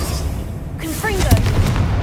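A Confringo blasting spell detonates in Hogwarts Legacy, a sharp booming burst following a spoken incantation, with game sounds around it.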